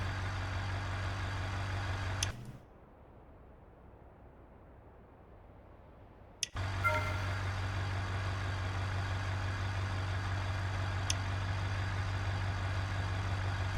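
A truck idles in the BeamNG driving game with a steady low engine drone. It drops out into near silence for a few seconds, then the same idle hum resumes and carries on evenly.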